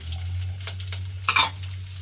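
Chopped onion sizzles and fries in hot oil for a masala dosa filling, a close steady hiss with brief stirring scrapes and one louder burst near the end.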